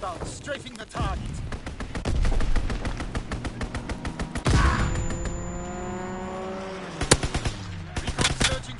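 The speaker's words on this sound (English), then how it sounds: "Fighter pilot inbound, strafing the target." Rapid machine-gun bursts from a strafing fighter jet in a video game, loud and close, with a sweeping engine roar midway and a few sharp booms near the end.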